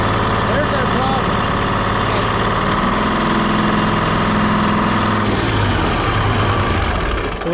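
Detroit diesel engine powering a car crusher under repair, running loud and close with a steady throbbing note that shifts pitch as it is revved about two-thirds through, while people talk over it.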